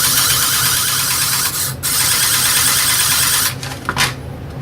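A hand-cranked vintage snowspeeder motor running steadily, a loud continuous buzzing drone with a brief dip partway through and a few sharp clatters near the end.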